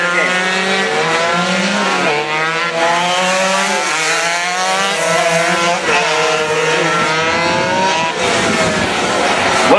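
Racing motorcycles scream past at full speed one after another, engines rising and falling in pitch as they approach and pull away, loud and continuous throughout.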